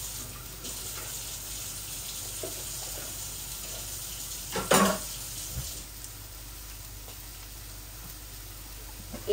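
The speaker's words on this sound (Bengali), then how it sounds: "এই বোলটা ধুয়ে একটু পানি দিয়ে দিচ্ছি" Tap water runs steadily in a home kitchen while a bowl is rinsed, a soft continuous hiss with a brief clunk of the bowl around the middle.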